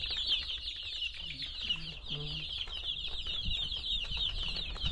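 Chickens and chicks cluck softly and briefly under a constant high chirping of insects or chicks, with scattered rustling and shuffling close by and no voices.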